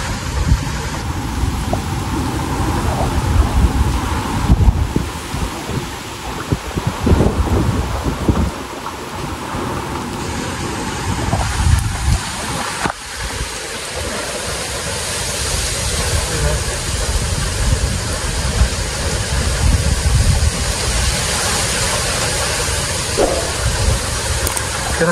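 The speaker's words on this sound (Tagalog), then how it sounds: "Lakas ang hangin." Heavy typhoon rain and gusting wind from Typhoon Kristine in Quezon Province, Philippines, roar loudly and continuously, with deep rumbling surges and occasional voices underneath.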